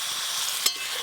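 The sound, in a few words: turmeric powder added to sizzling pan and stirred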